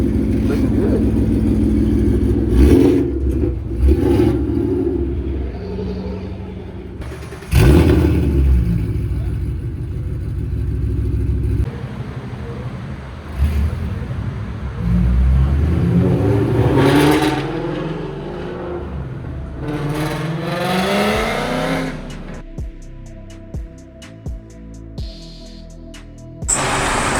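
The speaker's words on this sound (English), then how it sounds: "We got Cobra with a Procharger. Sound good." Supercharged Ford Mustang Cobra with a Procharger, engine roaring and revving repeatedly with rising and falling pitch sweeps, loud and close, with a voice talking now and then in between.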